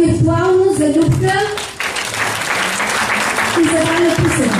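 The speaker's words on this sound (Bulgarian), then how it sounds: "аплодисменти, така виртуално, за Любка" Loud clapping from colleagues at a company's 25th-anniversary gathering, mixed with voices talking over it at the start and end, the applause swelling more openly in the middle.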